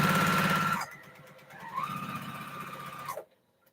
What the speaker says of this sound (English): I'm sewing, making my blocks for that cathedral window quilt.